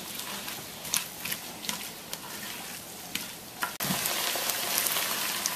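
Onions fry in a pan for shepherd's pie, a soft continuous sizzle with occasional clicks and stirring knocks, then a brief thump before the frying noise swells louder and brighter for the last couple of seconds.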